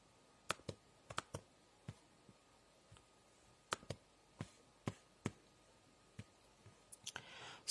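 Sharp computer mouse clicks, a dozen or so irregularly spaced single and double taps, close and crisp over a quiet background, with a brief rustle at the end.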